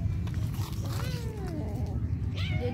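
Kittens scream and quarrel over food after being fed, with close, strained yowls and wavering cries rising and falling over a steady low rumble of background noise.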